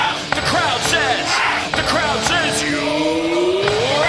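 A packed cricket crowd at Eden Gardens roars and yells after India's captain is caught out against the West Indies in a T20 World Cup match, a loud continuous wall of shouting with whoops and whistles throughout.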